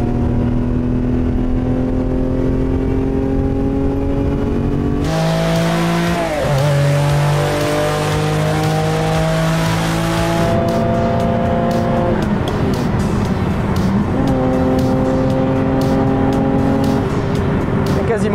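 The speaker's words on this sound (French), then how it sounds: "Je trouve pas le moteur aussi démonstratif que la Diablo." Ferrari Testarossa engine pulling hard through the gears at speed, loud rising revs with sharp shifts and a brief tire-and-road roar, heard from inside the car.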